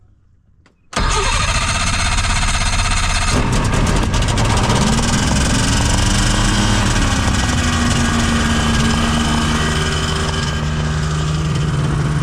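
A small propeller aircraft engine cranks and catches on the ground, then settles into a loud, steady running drone that stays close and constant with no voices over it.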